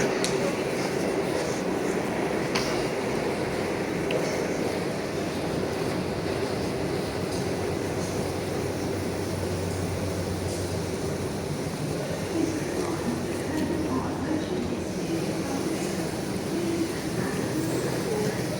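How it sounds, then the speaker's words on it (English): A London Underground District Line train approaches a platform at Bank/Monument, a sustained rumbling roar echoing through the station, loud and continuous throughout with no clear voices. "Train now approaching is a District Line train to Wimbledon"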